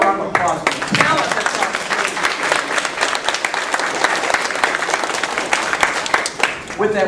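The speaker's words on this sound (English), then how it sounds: "How about a round of applause for Alice?" Audience applause at a morning kindergarten graduation ceremony, a dense, steady wash of many hands clapping for about seven seconds, loud and close, with cheering voices mixed in that fade slightly near the end.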